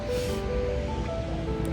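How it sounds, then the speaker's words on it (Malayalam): Wind blows steadily outdoors in a rose garden, a continuous close rush with sustained tonal hum underneath, no clear talk. "കാറ്റുണ്ട്, അത്യാവശ്യം കാറ്റുണ്ട്."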